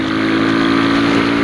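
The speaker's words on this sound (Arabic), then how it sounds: "ناخذ هذا الموتور هذا ندير ليه تيست رايد ونشد به الطريق بحال هكا." Steady loud engine drone from a Cimatti GT 300i motorcycle riding on the road, a continuous low hum with strong harmonics and rushing wind noise throughout, heard alone without talk.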